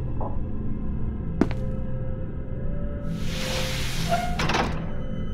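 A containment cell door in SCP: Containment Breach, played as a Minecraft Bedrock remake, slides open with a sharp thunk followed by a broad hissing whoosh over steady low background hum.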